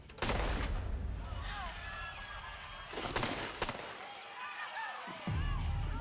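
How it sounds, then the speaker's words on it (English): Gunfire heard as a burst of muffled, firecracker-like pops, several sharp cracks clustered near the start and more around the middle, mixed with background noise and faint voices. "I hear what sounds like to me muted firecrackers."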